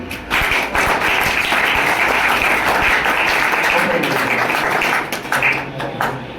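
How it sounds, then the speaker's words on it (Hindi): Loud, sustained applause from an audience at a motivational speech and award ceremony, dense clapping that holds steady for several seconds before thinning slightly at the end. "जोरदार ताली"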